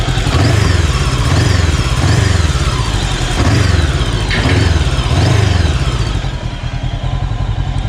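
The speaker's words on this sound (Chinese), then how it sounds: "然后高精的这个发动机特有的这个咻咻咻的声音啊" A Gaokin Storr 500 motorcycle engine revs repeatedly in rising and falling surges, loud and close, with a rhythmic whine over the idle before it settles.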